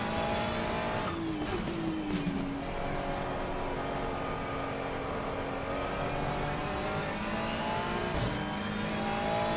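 A Ferrari 296 GT3 race car engine in the Assetto Corsa Competizione video game at Watkins Glen drones steadily at high revs, with brief shifts and faint tire noise, fairly quiet and continuous.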